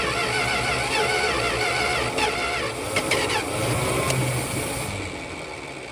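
A 1964 Plymouth Belvedere with a Poly 318 V8 cranks on the starter in a steady, loud, continuous mechanical churn with a few clanks, heard close up with no talking.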